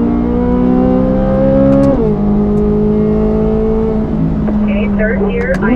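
A Corvette Z06 accelerates at full throttle on a track, its engine note climbing steadily, dropping at a gear change and rising again, loud and close with an instructor speaking over it.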